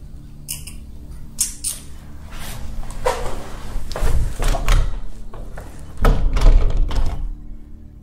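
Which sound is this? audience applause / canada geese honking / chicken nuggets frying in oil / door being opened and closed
door being opened and closed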